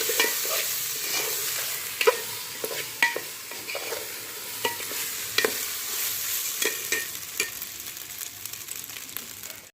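Rice frying gently on low heat in a pan for Bengali basanti pulao: a soft, steady sizzle punctuated by regular light scraping and tapping strokes of stirring.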